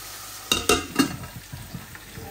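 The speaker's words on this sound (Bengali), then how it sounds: "এই যে মাছগুলো আস্তে আস্তে ভাজা ভাজা হচ্ছে" Frozen tilapia pieces frying in oil in a pan, a soft sizzle underneath with a few sharp spatters and stirring clatters near the start, then quieter irregular crackles.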